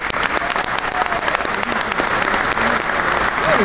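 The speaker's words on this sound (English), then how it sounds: "Coach, give a round of applause." An audience at a Georgia high school early signing day event applauds for a football coach. The dense, steady clapping is close and fairly loud and keeps going for several seconds, with a faint voice showing briefly under it.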